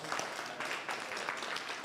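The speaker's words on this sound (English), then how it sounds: "A round of applause for our guests." Audience applause for guests at a weather and climate training curriculum launch in Kenya, a steady dense wash of many hands clapping throughout, moderately loud and continuous with no talk over it.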